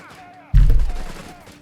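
Sturmgewehr assault rifles firing in Company of Heroes 3: after a quiet moment, a sudden loud, close burst of rapid gunfire that fades over about a second.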